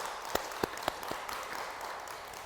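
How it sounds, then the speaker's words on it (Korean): Audience applause during a Buddhist dharma lecture, opening with a few sharp, separate claps before settling into a faint, steady spatter of clapping from a seated crowd. "큰 박수를 한번 부탁드리겠습니다"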